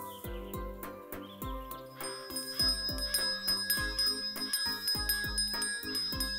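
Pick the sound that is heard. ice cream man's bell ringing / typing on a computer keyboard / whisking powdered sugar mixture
ice cream man's bell ringing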